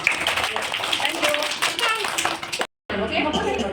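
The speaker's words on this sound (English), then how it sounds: "Clap yourself." Children in a classroom science show clap their hands, a dense burst of sharp claps mixed with young voices and chatter, briefly cut off to silence before resuming.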